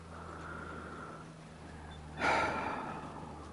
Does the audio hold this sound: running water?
no